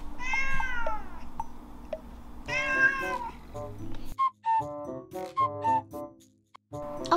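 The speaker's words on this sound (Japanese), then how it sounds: "OK Google 猫の鳴き真似をして。 こちらが猫です。" A smart speaker plays a synthetic cat meow sound: drawn-out meows alone, then a brief pause and a quicker run of shorter chirpy cat calls and mews, fairly close and clear.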